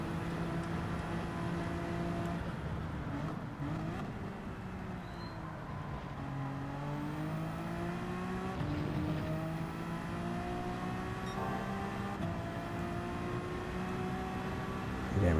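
A race car engine in a sim racing game drones steadily throughout, pitch climbing and dropping as gears shift, loud and continuous with no pauses.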